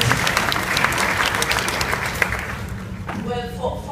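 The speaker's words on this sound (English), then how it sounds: "Yes, give a big applause, it's correct." A panel audience at an innovation academy event breaks into brief, dense applause that fades near the end, where a voice begins speaking.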